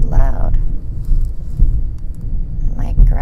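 Low rumbling thunder rolls through the background while a person talks over it at close range.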